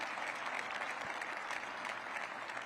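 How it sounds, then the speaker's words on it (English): A large audience at an awards ceremony honoring DC public school educators gives a brief, even round of applause, a dense wash of clapping heard from a little distance. "Give the Public Education Fund a round of applause."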